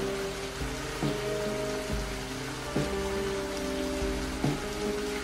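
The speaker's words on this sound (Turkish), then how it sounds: "Belki ıslak asfaltıyla yağmur." Steady rain patters on a hard wet surface, with scattered heavier drops and low rumbling thuds now and then, continuous and fairly close.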